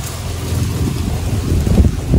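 Steady wind buffets the microphone with a low rumbling roar that gusts slightly stronger toward the end.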